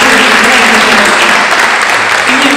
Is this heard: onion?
no